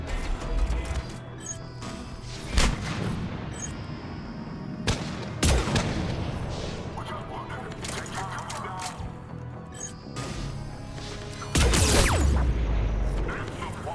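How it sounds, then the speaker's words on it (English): A sniper rifle shot in the game Mass Effect, arriving as sharp, loud cracks among scattered gunfire and impacts, with several distinct bursts over a busy combat background. "Did I just get sniped?"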